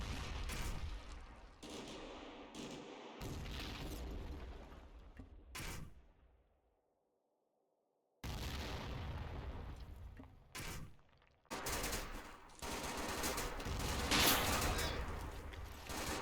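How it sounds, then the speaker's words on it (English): Medium mortar barrage in a Combat Mission battle at Monte Cassino, sounding as repeated loud, sharp blasts in irregular bursts, broken by a pause of near silence before the bombardment resumes dense and rumbling. "I order indirect fire from my own medium mortars on the suspected defensive"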